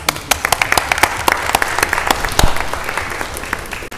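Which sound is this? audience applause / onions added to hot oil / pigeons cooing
audience applause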